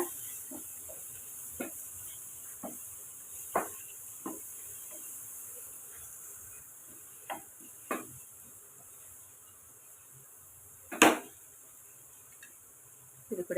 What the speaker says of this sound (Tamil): இப்போ எல்லாத்தையும் சேர்த்து வதக்கி விட்டு எடுத்துக்கோங்க